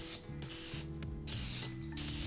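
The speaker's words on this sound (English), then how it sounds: "And what I'm gonna do is give them another coat of grease." Cooking spray misted over pastries before baking, several loud hissing bursts in quick succession with short pauses between, close and crisp, with no talking.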